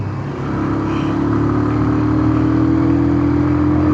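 A Bajaj Pulsar 180 motorcycle pulls hard through an overtake, its engine note rising steadily in a loud, continuous drone with wind rush and no talking.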